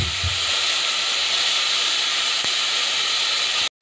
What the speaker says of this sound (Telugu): ఒక పెద్ద టమాటా తీసుకొని బాగా ఫ్రై చేసుకోవాలి।